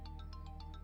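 A faint electronic ringtone repeating a quick high chirping pattern over a low background hum.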